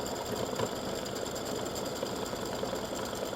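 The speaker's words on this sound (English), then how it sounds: "it's getting ready to do the satin stitching around the edges" An embroidery machine stitches steadily, a fast, even mechanical whirring and needle chatter that stays loud and constant throughout with no talk.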